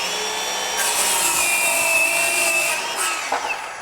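A RYOBI 18V ONE+ HP brushless 7-1/4" circular saw, model PBLCS300B, cutting wood at a lower 4,300 RPM: a loud, sustained high whine under load that wavers in pitch, then drops as the blade spins free at the end.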